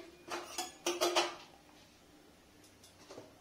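A metal wok (kadai) is set down on a lit stove: a few clattering metallic knocks and scrapes close by, clustered together and then trailing into quieter faint clinks.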